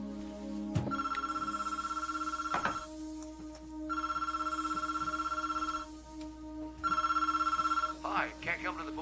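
A telephone rings in three long, loud electronic bursts separated by pauses before an answering machine picks up, with brief sounds between the rings.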